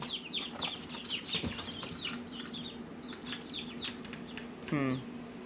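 Chickens cluck and chirp in short repeated calls at moderate distance, with a faint steady hum beneath and a brief louder squawk near the end.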